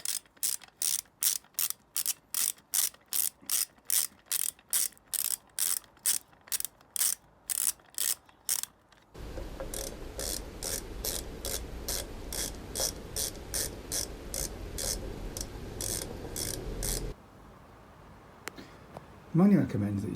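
Rocker cover nuts on a Moto Guzzi Breva 1100 being run down with a ratchet: rapid, evenly spaced clicks close up, then a second run of clicks over a low mechanical rumble, ending in quieter handling noise.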